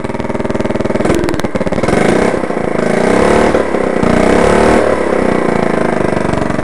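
A small Honda CT70 motorcycle engine with a minor exhaust leak runs loud and close, idling with rhythmic exhaust pulses and a ragged, puffing sputter that rises and falls slightly.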